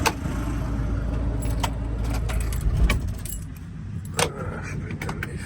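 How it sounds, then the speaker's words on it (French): A van engine idles with a low hum, then is switched off, winding down and going quiet, with keys jangling and clicking near the end. "Je vais quand même couper le moteur 2 secondes."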